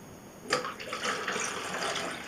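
Water poured from a container into an Agfa Rondinax 35mm daylight-loading film processing tank, a sudden splashing gush that starts abruptly and keeps pouring steadily and close by.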